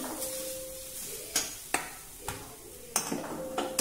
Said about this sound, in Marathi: त्यासाठी आपण 3 ओले नारळ खिसून घेतलेले आहेत। ते आता तुपामध्ये चांगले लालसर होईपर्यंत भाजून घ्यायचे